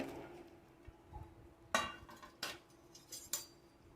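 A spoon stirs rava kesari with ghee and chopped dates in a metal pot, making a few soft scrapes and sharp clinks against the vessel at irregular intervals.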